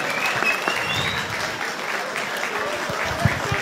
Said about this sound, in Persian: تشویق کنین دوستا.